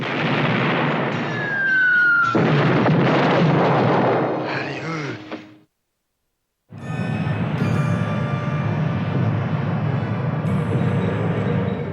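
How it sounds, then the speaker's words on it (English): Film special-effects explosions for the movie 1941, made with air mortars, boom loudly, with a sliding whine over the first blasts. A short silence follows, then a long, roaring, rumbling blast fills the rest. "all the explosions were done with air mortars"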